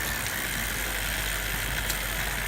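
A bicycle chain is cranked through a Park Tool CG-2.3 chain cleaner filled with degreaser, giving a steady, even whirring rattle that runs unbroken at a constant level.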